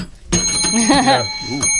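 An electronic quiz buzzer sounds loudly and sustains a steady tone, with a brief second burst at the end.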